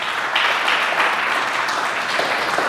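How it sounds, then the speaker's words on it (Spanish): Steady, dense applause from a church congregation after a sermon remark, filling the room at an even level for a few seconds with a brief cheer-like swell partway through. "Dele un aplauso a Dios por eso."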